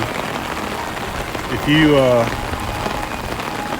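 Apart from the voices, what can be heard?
heavy rain falling at Magic Kingdom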